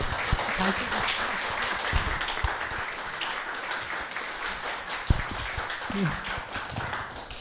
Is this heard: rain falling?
no